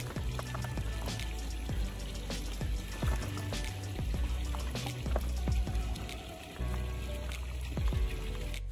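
Running water rinses soil off a horseradish root in a steady splashing stream, with scattered small knocks and drips throughout.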